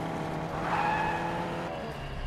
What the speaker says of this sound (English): You hear a car, right?